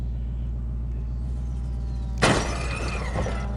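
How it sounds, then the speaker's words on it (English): A car crash in a mobile driving game: steady engine and road rumble, then a sudden loud impact with bursting glass shatter and a crunching decay that fades into continued rumble. "so you can get really cool crashing effects in slow-mo"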